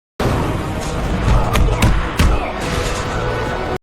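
Movie fight scene with a spinning kick knocking a man to the ground, a few sharp thuds and whacks over a dense rumbling mix, including a louder hit near the middle.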